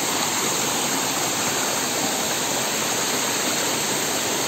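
A waterfall pours steadily on a hill trek to Nakkati Hill in Assam, northeast India, a dense, continuous broadband rush of falling water, close and loud, with no voices over it.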